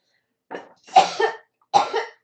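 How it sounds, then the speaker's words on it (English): A child coughs three times in quick succession, close and clear, with short silent gaps between the bursts. "Are you coughing or choking on air?"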